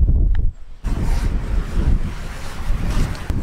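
Strong wind buffets the microphone with a low, rushing roar that briefly drops off, then returns and keeps gusting.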